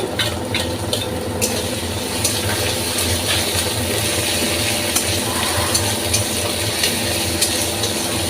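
Ginger paste, garlic paste and slit green chillies fry in a pan with a steady, close, loud sizzle that carries on throughout, broken by a few sharp stirring clinks near the start and no speech.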